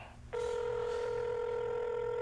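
A telephone tone sounds on a call placed to an office phone line at a sales company: a single steady, loud electronic tone starts abruptly and holds unbroken, alone without talk.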